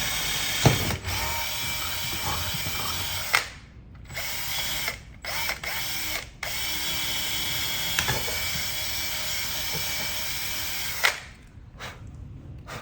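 A power drill bores a hole in a goalie stick holder, whirring steadily at close range with a few brief pauses and restarts.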